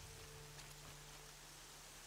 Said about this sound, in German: Es regnet schon wieder.